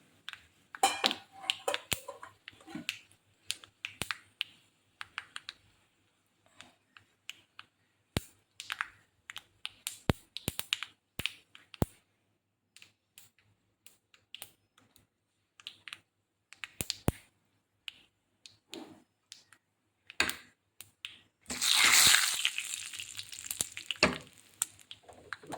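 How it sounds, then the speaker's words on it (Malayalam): Mustard seeds splutter and pop in hot oil for Kerala-style chakka puzzhukku, with sharp irregular crackles throughout and a denser burst of sizzling near the end. "അപ്പോൾ നമ്മുടെ കടുക് വറുത്ത് വന്നിട്ടുണ്ട്."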